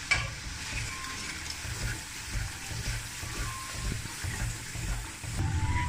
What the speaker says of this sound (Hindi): दही का डालेंगे 1 चम्मच और मिक्स करेंगे